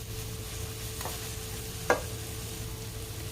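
Masala spice paste frying in a pan for an Indian mixed-vegetable sabji: a steady, soft sizzle throughout, broken by one sharp stirring click near the middle.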